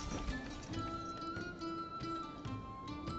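Horse hooves clip-clop in the medieval village-building game Manor Lords, a steady trotting patter under a busy game soundscape with ambient tones, moderately loud and continuous.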